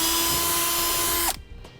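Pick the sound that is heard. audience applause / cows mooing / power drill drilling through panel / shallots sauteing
power drill drilling through panel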